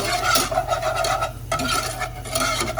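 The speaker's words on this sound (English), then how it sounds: "adding in the flour, and you want to start to whisk quickly" Flour being whisked quickly and constantly into a hot pan for Swedish meatball gravy, a steady close-up scraping stir over a soft sizzle that runs nonstop with only a brief pause midway.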